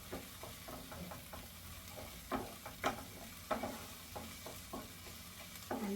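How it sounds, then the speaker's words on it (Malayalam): Onions fry in a pan for mushroom masala, a steady soft sizzle broken by repeated scraping knocks of a spoon stirring, quiet and close with no talk. "എന്നിട്ട് നല്ലതുപോലെ ഇളക്കി കൊടുക്കണം. ഇതിൻ്റെ ഈ പച്ചമണം എല്ലാം ഒന്ന് മാറണം. ഈ ഉള്ളിയൊക്കെ ഒരു ഗോൾഡൻ കളർ ആകണം."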